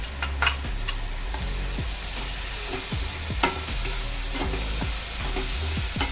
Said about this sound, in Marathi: चांगलं तेलावर असं हे चांगलं परतून घ्यायचं